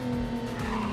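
A car in the Midnight Club 2 racing game sliding under the handbrake, a sustained tire squeal over a droning engine tone, loud and continuous for a brief moment with no talk.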